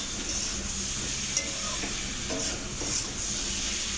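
Spice paste with coriander powder, chili powder and salt being stirred as it fries in a pan, a steady close sizzle under soft intermittent scraping, with no voices.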